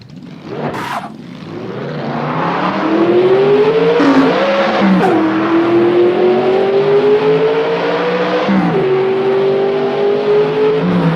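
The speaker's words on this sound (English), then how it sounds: "it's going to sound exactly like that Dodge that we just were driving" A car fitted with an exhaust sound mod made to sound like a Dodge revs loudly, the engine note rising and holding in several steady pulls with brief dips between, after a short sharp noise at the start.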